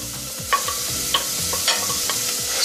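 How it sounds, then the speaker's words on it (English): Onion sautés in ghee in a pan with a steady sizzle and repeated scraping stirs, close and continuous, with no voices. "Saute the onion for a while."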